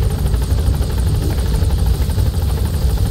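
A helicopter arrives in Metal Gear Solid V, a loud, continuous rotor thump with a deep engine drone that holds steady throughout, nothing else over it.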